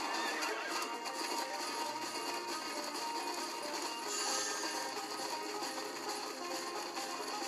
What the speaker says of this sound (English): apparently I'm in a horse race